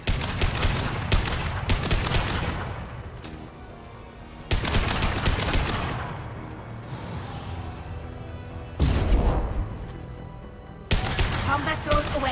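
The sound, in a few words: gunfire in a video game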